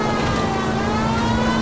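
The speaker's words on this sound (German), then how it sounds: "So, mal ein bisschen Sirene angemacht" A police car siren wails steadily in the video game L.A. Noire, loud and continuous over engine noise, with no talking.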